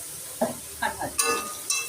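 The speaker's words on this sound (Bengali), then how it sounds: "আর ভাজবো" Paneer frying in a pan with chilli powder and spices, giving a steady sizzle broken by a few sharp stirring scrapes close by.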